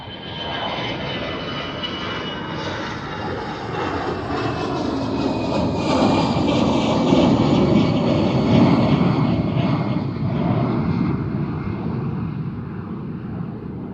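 A Lufthansa airliner bound for Munich climbs out of Amsterdam Schiphol, its loud jet roar swelling to a peak midway and then slowly fading as it passes overhead.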